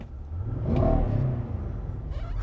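A Nissan Patrol Warrior with a 5.6 litre V8 and bimodal exhaust starts up close by, a cranking burst swelling into a loud deep rev that settles into a steady rumbling idle.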